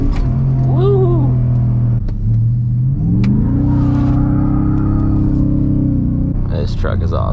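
A 2023 Ford F-150 Raptor R, a 700-horsepower pickup, roars as it accelerates, its engine note rising through the gears and then holding a loud steady drone, with speech over it.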